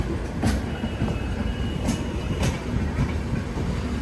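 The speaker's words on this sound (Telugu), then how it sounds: "ఆ ట్రైన్ అవుట్ అవుతుంది," The Kerala Express moving along the platform at Chengalpattu station, a continuous close rumble of rolling carriages punctuated by a few sharp rhythmic clacks of wheels over rail joints.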